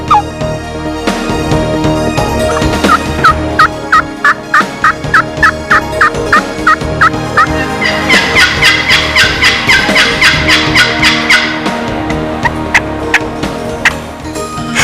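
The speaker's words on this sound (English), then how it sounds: "The many sounds produced by the wild turkey are unique and can be reproduced on countless types of man-made calls" A wild turkey calls with a rapid string of clucks and yelps, then breaks into loud, rattling gobbles repeated in quick succession, close and clear over a faint outdoor background.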